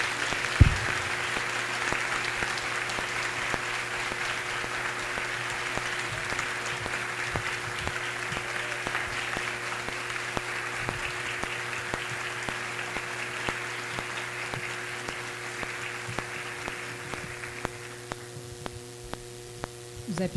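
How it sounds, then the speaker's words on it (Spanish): Sustained audience applause fills a forum hall on urban rights, a steady dense clapping wash that carries on for about twenty seconds before thinning out near the end, with a low mains hum running beneath it. "vamos fazer uma salva de palmas especial para as duas"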